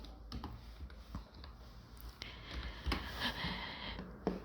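Someone typing a search for "Playground Python" on a computer keyboard: quick, close key clicks in an uneven rhythm over a faint background hiss, with no talking.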